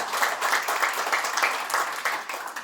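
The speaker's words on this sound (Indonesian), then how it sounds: "berikan tepuk tangan yang meriah buat Tuhan" A church congregation applauds together in a dense, sustained wash of clapping that stays loud and even throughout, with no voices rising above it.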